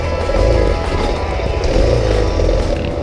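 Stock Suzuki DR650 dual-sport motorcycle doing a pivot turn on dirt, its single-cylinder engine holding a steady, loud, close rumble that swells slightly as it revs through the turn.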